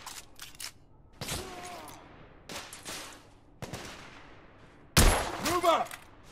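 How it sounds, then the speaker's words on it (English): Gunfire from The Order: 1886 game, repeated bursts of suppressing fire crackling in loud volleys separated by short gaps, the heaviest and nearest burst near the end. "I'm taking suppressing fire!"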